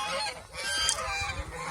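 Domestic geese give loud, nasal honks in quick succession, close by, with no voices.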